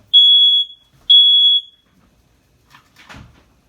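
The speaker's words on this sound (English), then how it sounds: "that's the smoke alarm." A household smoke alarm emits two loud, piercing high-pitched beeps about a second apart, followed by faint rustling and a soft thud nearby.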